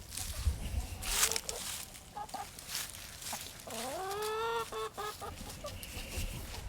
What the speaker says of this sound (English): The hens dig down and they'll eat them